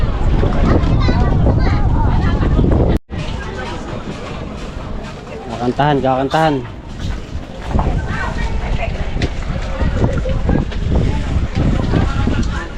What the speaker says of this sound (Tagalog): Malakas po hangin eh.